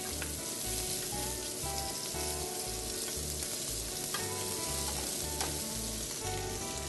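Shrimp searing in a hot pan, a dense steady sizzle close up with scattered crackles and occasional light taps as pieces are turned, under a low rhythmic hum.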